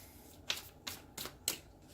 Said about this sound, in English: I think we need to get a couple of more good shuffles.